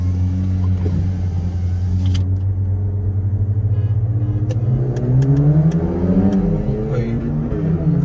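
A stock Volkswagen Virtus GT accelerates hard in a drag race against a stage 2 tuned Honda City, a steady loud engine drone climbing in pitch as it pulls away, with people talking over it.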